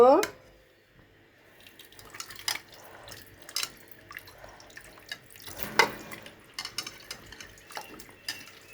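Pangas fish being rinsed by hand in a kitchen sink, with running tap water, splashing and occasional clinks of a pot or dish, fairly quiet and close, with a few sharp knocks.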